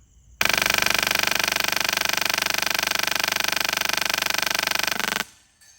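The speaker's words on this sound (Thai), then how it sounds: "สังเกตฟังเสียงจากลูกกระสุนกระทบเสานะครับ" A rapid, unbroken stream of bullets from an S2 gun strikes a post at 40 metres, making a dense, even rattling clatter that runs for about five seconds and then cuts off sharply.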